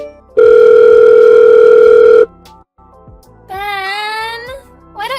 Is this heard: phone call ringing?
yes